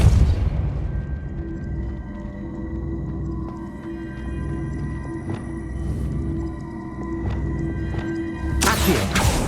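A Depulso spell blast goes off in Hogwarts Legacy: a muffled booming burst over a steady rumbling game backdrop, with a sharper whooshing burst near the end.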